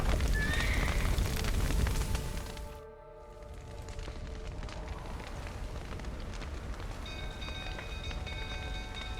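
In the video game The Witcher 3: Wild Hunt, a horse whinnies briefly at the start over a dense, crackling wash like rain or fire, which continues steadily after a short dip.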